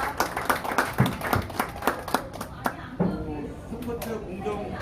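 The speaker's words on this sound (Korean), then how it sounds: "박수로 한번 부탁드립니다" Scattered, close hand claps from a small group, uneven and irregular, gradually thinning out toward the end.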